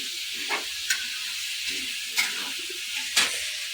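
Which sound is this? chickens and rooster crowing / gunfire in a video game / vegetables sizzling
vegetables sizzling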